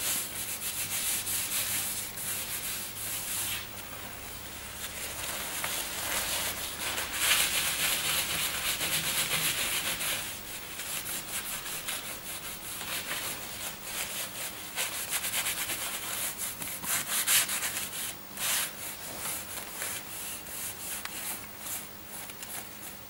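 Cloth wiping excess antique finish off tooled leather, a steady soft rubbing and scrubbing close up, continuous with slight surges, no talking.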